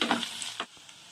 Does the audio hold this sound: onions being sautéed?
yes